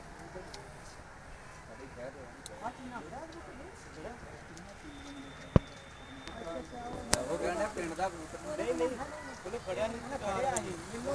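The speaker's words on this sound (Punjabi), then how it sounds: "ਆਹ ਕਬੂਤਰ ਜੇ ਜਿਹੜੇ ਉੱਡਨੇ ਆ ਚਾਰ ਦੇਸੀ ਜੇ ਤੇ ਚਾਰ ਮਲਵਈ ਜੇ" Desi and Malwai pigeons coo in soft, repeated warbling calls close by, with people talking over them and a sharp click partway through.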